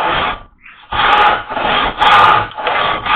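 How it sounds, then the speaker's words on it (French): A wide-bladed hand saw rasps through wood at a tenon shoulder in steady back-and-forth strokes, each stroke a loud, gritty scrape after a brief pause at the start. "remets la scie à l'intérieur et je laisse glisser entre les coupes qui sont maintenant de chaque côté"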